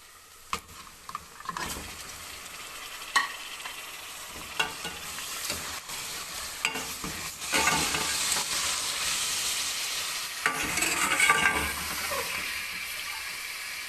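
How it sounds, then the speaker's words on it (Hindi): Chicken fries in a pot for biryani with a loud, continuous sizzle and hiss, broken by repeated scraping knocks of stirring that build into a dense, steady frying roar; no talk. "इसे थोड़ी देर भूनेंगे।"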